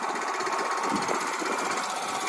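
A small engine on a 2013 Yamaha YBR125 Custom motorcycle idles steadily nearby with a fast, even mechanical chatter and no other sounds.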